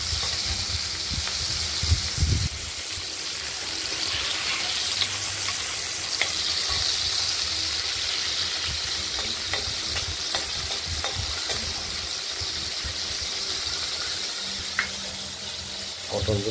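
Prawns fry in hot oil in a home kitchen pan, giving a loud, steady sizzle that crackles and hisses continuously, with occasional stirring clatter and scrapes up close.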